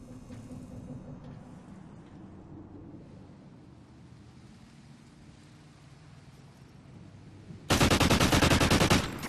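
Video game gunfire, a sudden loud sustained burst of rapid automatic shots near the end, after quiet ambient noise, no talk.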